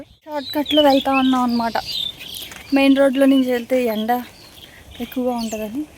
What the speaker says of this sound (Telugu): పిచ్చుకల సౌండ్లు బాగున్నాయి కదా.